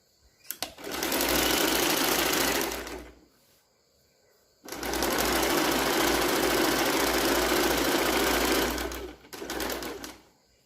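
A sewing machine stitches a blouse neckline in three loud, close motor runs of steady whirring, each separated by a short quiet gap.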